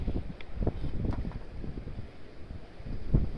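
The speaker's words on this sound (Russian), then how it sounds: "Смотри, ветрище." Strong wind buffeting the microphone on open water during a fishing trip, a steady rumbling roar with gusty low thumps and rustle, no other clear sounds.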